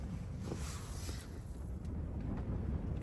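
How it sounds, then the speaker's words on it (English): Strong wind gusts buffet a tent pitched on Helvellyn, making a close, rushing, rumbling roar with brief flaps and surges, fairly quiet overall and with no talking. "the wind has picked up quite significantly"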